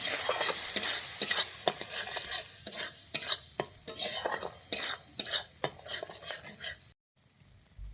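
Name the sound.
stirring and sautéing fish curry masala in a pan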